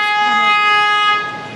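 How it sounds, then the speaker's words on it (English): A car horn honks on a New York street, one loud sustained blast that holds steady and then fades slightly at the end. "Here, honking."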